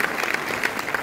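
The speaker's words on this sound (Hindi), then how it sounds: "जोरदार तालियों से उनका स्वागत फिर से एक बार कीजिए" A live audience claps loudly for a young writer at an event, steady dense applause filling the whole moment without pause.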